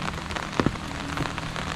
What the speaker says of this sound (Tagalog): tuloy pa rin po ang ulan